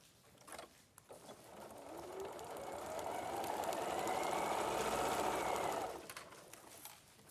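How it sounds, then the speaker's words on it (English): A sewing machine stitches the top onto a soft-toy lining in one steady run, whirring up to a sustained hum for several seconds before stopping, close and alone. "Just sewing the top on the lining."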